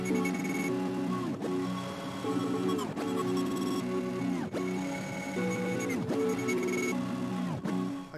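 Dark, evil hard rock beat built in FL Studio 21, heavily distorted with Fruity Fast Dist: a dense, saturated loop of driving drums and grinding tones, steady and loud with regular accented hits and no voices.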